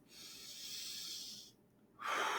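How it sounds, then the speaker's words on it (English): A deep breath drawn in close to the microphone, a long airy inhale followed by a short pause and a stronger, rushing exhale. "Take a deep breath."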